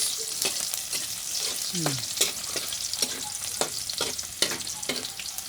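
Onions and garlic sizzling steadily in a pan, with frequent sharp spatula clicks and scrapes as they are stirred, close and continuous.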